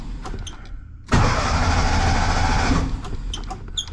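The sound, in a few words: 1957 VW Bug engine cranking with ignition turned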